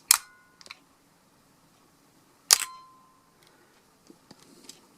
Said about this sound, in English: If I were to cock the shutter and hit the shutter button